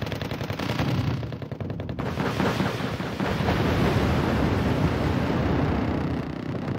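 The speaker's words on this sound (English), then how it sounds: "Rockets are catching my M1A2 out in the open and stunning it and damaging it further" Rockets pound an M1A2 tank in the Wargame strategy game, with rapid rattling impacts at the start, then a dense rolling roar of blasts and crackling fire that stays loud throughout.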